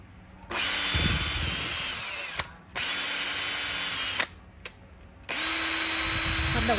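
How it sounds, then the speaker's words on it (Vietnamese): Power drill fitted with a drill adapter attachment whirs loudly in three sustained bursts with short pauses between, a steady high-pitched motor whine close to the microphone, with faint talk underneath. "cái đầu nối máy khoan này hoạt động ok"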